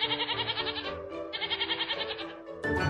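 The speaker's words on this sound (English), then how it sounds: "Goat, sheep, and cow are plant-eating animals." Goat bleating in two long, quavering cries with a rapid vibrato, a short pause between them, and a brief louder sound at the end.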